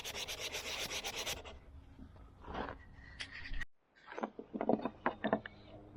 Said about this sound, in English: that little sanding machine I've got, it really hogs off the material